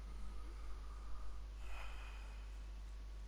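In Red Dead Redemption 2, a sick character breathes for a doctor's exam: a few soft, close snorting inhales and one louder breath near the middle, over a low steady hum.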